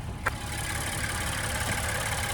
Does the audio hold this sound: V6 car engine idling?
yes